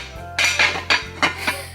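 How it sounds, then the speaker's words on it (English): A heavy Dutch pot is handled in a home kitchen while baking sourdough, giving five sharp metallic clanks and knocks in an uneven rhythm, close and fairly loud, with no talking. "I got my Dutch pot."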